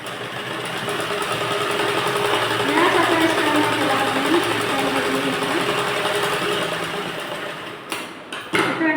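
An electric sewing machine stitching net fabric onto a blouse whirs in a steady, close, continuous run for about eight seconds, then stops with a few short clunks.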